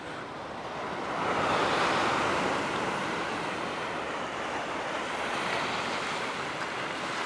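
Ocean waves wash continuously against a rocky shore, a steady roaring surf with wind rumbling over the microphone and a swell in loudness early on.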